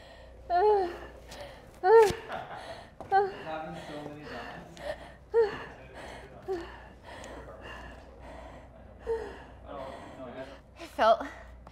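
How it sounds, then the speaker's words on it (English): Hard, gasping breaths through a mask right after a VO2 max test at 8500 ft, coming in ragged bursts with a few strained exhales, close to the mic. "Keep the mask on and just breathe for 2 minutes."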